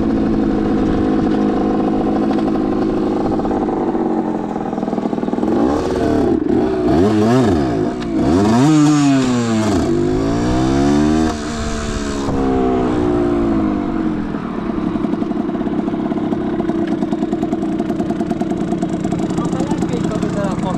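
Italjet and Rieju 70 cc scooters race, their small two-stroke engines buzzing loudly and continuously, rising and falling in pitch as they accelerate and ease off, with a rider's voice speaking over the engine noise.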